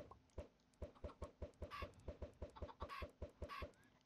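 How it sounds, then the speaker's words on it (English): Minecraft chickens cluck in a quick, regular series of short clucks, over a dozen evenly spaced calls with a few brighter squawks mixed in, close and clear without talk. "So that is chickens."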